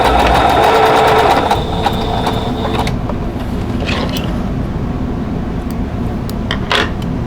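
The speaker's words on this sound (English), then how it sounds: "And then if you want to, you can backstitch." A sewing machine backstitches along the fabric of a handmade needle case, a loud, close, rapid mechanical whir that runs fast at first and then slows to a lighter, steadier stitching with a few clicks.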